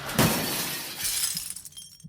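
A window pane shatters loudly as someone bursts through it, followed by a spray of glass fragments tinkling and scattering down to quiet.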